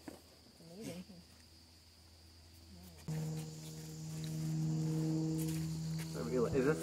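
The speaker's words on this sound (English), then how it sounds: "This place really does have a lot of bugs." Insects along a New Jersey hiking trail keep up a faint, continuous chirping and buzzing, with a steady whine joining partway through, while people speak quietly nearby.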